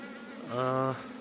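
A short, close buzz of a honey bee swarm swells for about half a second and fades, over quiet background hum.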